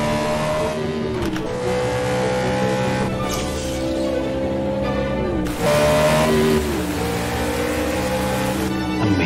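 Race cars lapping the Imola circuit in an esports racing round, a continuous loud engine roar rising and falling through gear changes, with no talk.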